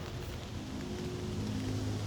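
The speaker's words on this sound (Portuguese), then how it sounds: "tá chovendo" Rainfall in the VR zombie game The Walking Dead Saints & Sinners: a dense, steady hiss of falling rain with a low rumbling undertone, continuous and fairly quiet, with no talking.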